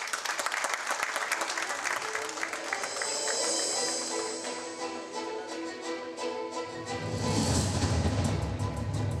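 A live audience applauds to welcome Hassan Niazi on stage at The News Tribe relaunch event: dense, sustained clapping that fills the room and swells louder toward the end.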